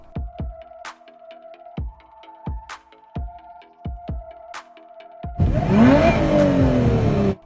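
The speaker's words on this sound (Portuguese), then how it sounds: "assim que ela escuta o Tem acelerando o motor do carro" A car engine revs hard and close in a sudden loud burst near the end, following several seconds of quieter idling punctuated by sharp knocks, with no talking.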